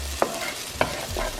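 Onions browning in a frying pan for a Swedish meatball meal, a steady sizzle with a few sharp stirring scrapes at regular intervals, close and moderately loud, with no talking.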